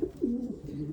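Pigeon cock birds in a loft coo in a short, close, throaty run of rising and falling notes, with no speech heard over them.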